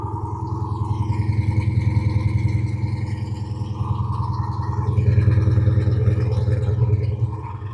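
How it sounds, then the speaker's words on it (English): A Whipple-supercharged, cammed Chrysler 300 SRT with a JBA exhaust idles with a deep, steady, loping rumble that swells slightly and stays close and loud throughout. "That is a JBA exhaust. Sounds pretty nice if you ask me"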